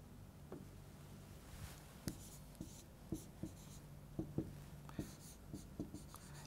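Pen writing out a maths solution on paper, soft scratchy strokes and light taps in an irregular rhythm, close and quiet, with no talking over them.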